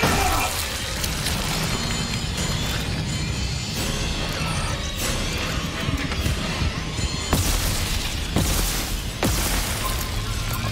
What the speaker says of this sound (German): Der Feuerlöscher explodiert auch?